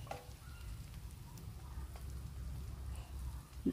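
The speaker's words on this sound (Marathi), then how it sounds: "दोनही भाज्या व्यवस्थित फ्राय करून घ्या।" Cabbage, beans and capsicum stir-fry in a pan while Schezwan fried rice is made, giving a soft, even sizzle and crackle like light rain, with a faint clink at the very end.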